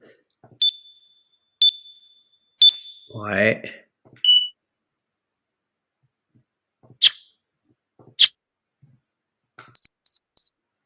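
Synthetic beeping alarm sound effects from a sound library, several short high-pitched beeps spaced apart, then a quick triple beep at the end, with a brief voice and a few clicks between them.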